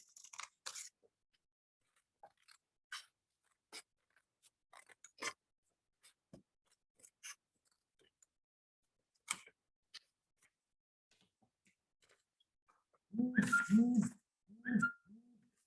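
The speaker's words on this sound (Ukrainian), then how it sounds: "Беремо ножиці, вирізаємо." Scissors snipping through paper for a children's toothbrush craft appliqué, a series of faint, short, irregular crisp cuts spread across the stretch, followed near the end by two louder, fuller bursts.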